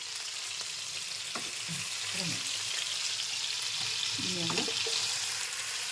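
Masala shawaya frying in oil over a medium flame gives a steady, dense sizzle that runs the whole time, with faint low voices murmuring in the background.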